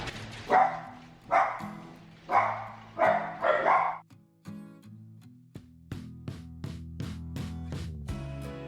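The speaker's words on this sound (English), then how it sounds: "once the dogs know that, they're gonna go crazy" Several dogs in a home bark loudly in a burst of about five barks as a car pulls into the driveway. Softer, higher yips and scattered knocks follow.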